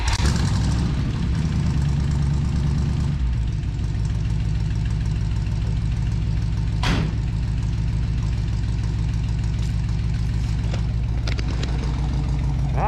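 A 1965 Dodge D200 pickup with dual exhaust, started and left idling on a wet day, heard close and loud with a deep, steady rumbling idle that settles after a rougher first few seconds, with an occasional brief knock or clank.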